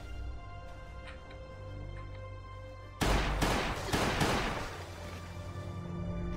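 Pistol gunfire in the survival game Last Day on Earth, a sudden burst of several sharp shots in quick succession over a steady humming ambient background.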